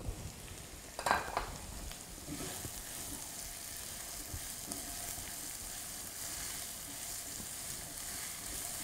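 Ginger, garlic and onion fry in a pan with a steady, fairly faint sizzle, after an early clatter of utensils, and no clear talk.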